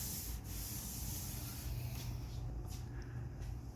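Body filler is sanded on the body of a 1932 three-window hiboy car, a continuous close raspy scrubbing with slight rhythmic strokes, steady and unaccompanied by speech.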